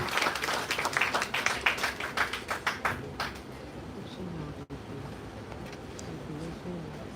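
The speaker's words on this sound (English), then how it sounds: "Dear audience, please give a round of applause." An audience at a geography conference in a university hall claps for about three seconds, a brisk burst of applause that fades out into room murmur and a voice speaking over it.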